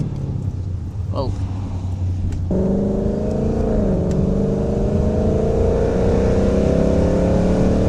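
A loud Mustang GT engine in the rain, a deep rumble that suddenly climbs into a sustained high rev and holds, heard close up from inside the car over road and rain noise.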